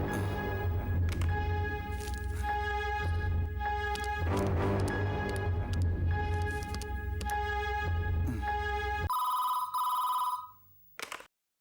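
A telephone rings steadily in repeated trilling bursts, loud and close, then stops and a short electronic beep follows.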